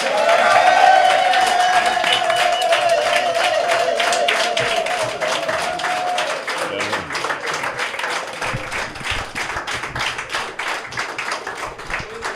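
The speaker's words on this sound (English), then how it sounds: "Certainly deserves a standing ovation, ladies and gentlemen" A crowd at a political rally in Castries North, Saint Lucia, breaks into sustained applause and cheering for a standing ovation, dense clapping that softens into steadier patter over several seconds.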